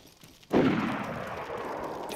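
A single loud gunshot in the video game DayZ cracks after a brief quiet moment, followed by a long, fading reverberant echo.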